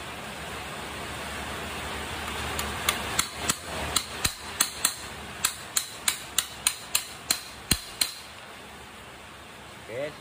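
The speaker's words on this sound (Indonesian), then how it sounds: "Letakkan paku beberapa biji agar kuat" Nails are hammered into a fish spear head, about fifteen sharp metallic strikes in a quick, fairly even rhythm, close and loud against a faint steady background hiss.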